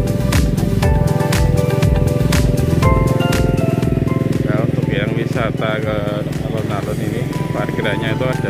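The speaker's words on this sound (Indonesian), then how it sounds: "Sepeda motor sudah kiri sana." A motorcycle engine passes on a street in Yogyakarta with a loud, steady buzzing drone that stays close throughout, mixed with voices and other street noise.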